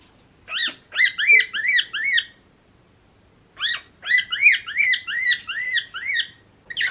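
A pet parrot screeches in two rapid runs of loud, harsh, repeated squawks, close by, with a short silent gap between the runs.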